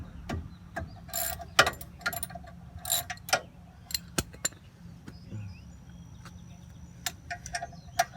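A ratchet loosening brake caliper bolts during a DIY brake job, clicking in short irregular bursts of rapid ticks close by, with scattered metallic taps and quiet pauses between strokes.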